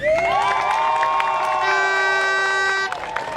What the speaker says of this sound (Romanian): Hai să auzim aplauze